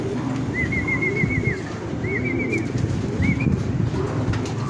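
Racing pigeons at the loft coo in low rhythmic rolls over a busy background murmur, while short high whistled trills repeat several times above them, close and fairly loud.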